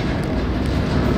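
A freight train rolls slowly past in Denver in broad daylight, giving a loud, steady, close rumble with no distinct clacks.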